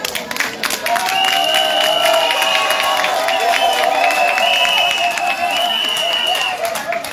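Crowd at a municipal election rally in Marcory, Côte d'Ivoire, applauding and cheering loudly and continuously, with shouts, whistles and sustained tonal cries over the clapping.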